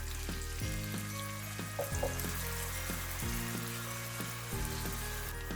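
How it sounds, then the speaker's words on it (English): Rendang spice paste frying in a pan as water is added, giving a steady sizzle with faint bubbling and a few soft stirring knocks, moderately close and with no talking. "We can add some water into it."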